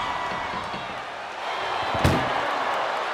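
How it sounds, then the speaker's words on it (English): An ambulance door is slammed shut during an ambulance match in a wrestling video game, landing as a single sharp bang about two-thirds of the way through over a steady roar of arena crowd noise. "trying to close the second door and win the match"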